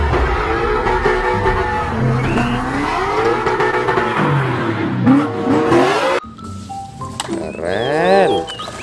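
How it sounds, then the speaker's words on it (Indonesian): A toy race car gives off a revving engine sound whose pitch rises and falls in repeated sweeps, loud and close, before it turns into higher, siren-like wavering tones near the end. "Ini ada mobil balap."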